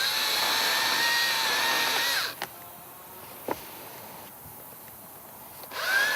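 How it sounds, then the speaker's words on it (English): An electric top handle forestry saw whines steadily while cutting branches on a farm of poplars and willows, then the motor drops away into quieter outdoor sounds with a couple of soft clicks before spinning up again. "In this case, it's an electric saw."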